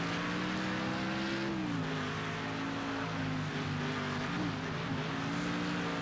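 Race cars roar around a track in the video game Next Car Game, a steady, loud engine drone with gear changes and shifting pitch, other cars blending into the dense mix.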